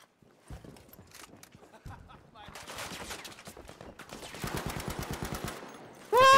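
Bursts of rapid gunfire in Battlefield V crackle in quick succession, building into dense automatic fire before a sudden loud tone cuts in at the end.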